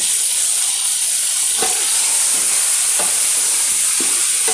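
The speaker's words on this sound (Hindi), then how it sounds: "इसको थोड़ा भूनेंगे। गोश्त भी भून गया" Meat and tomatoes fry in a pot for an aloo gosht, giving a steady loud sizzle with a few soft stirring scrapes and no talking.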